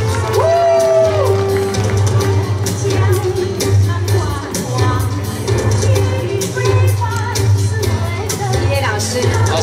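Concert audience at a music show cheering, whooping and clapping loudly and continuously, with shouts rising over a dense crowd roar and music playing underneath.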